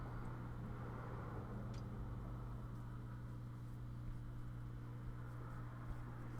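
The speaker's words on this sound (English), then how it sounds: "Man, that car's making a funny noise." A passing car gives off a steady, faint low hum with a constant whine, heard from a distance without any talk.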